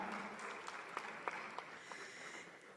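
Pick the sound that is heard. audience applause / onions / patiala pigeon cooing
audience applause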